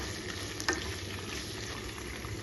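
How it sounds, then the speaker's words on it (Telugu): Drumstick (moringa) pieces frying in oil in a pan, a continuous soft crackling sizzle with one brief clink near the start, steady and fairly quiet. "ముక్కలన్నీ నూనెలో మంచిగా ఫ్రై అయినాయండి"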